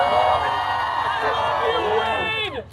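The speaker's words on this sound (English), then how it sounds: "you can continue cheering if you like" A crowd at a Deadpool story time show at Disney California Adventure cheers and whoops continuously, with many overlapping excited voices, before the noise dips and fades in the final moment.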